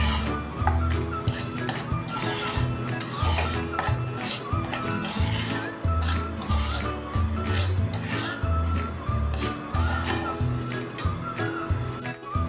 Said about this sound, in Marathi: रवा आता सतत हलवून चांगला भाजून घ्यायचा आहे